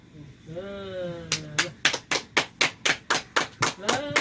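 A baby claps its hands in a quick, even run of about a dozen crisp claps after a short stretch of babbling and cooing, close to the listener.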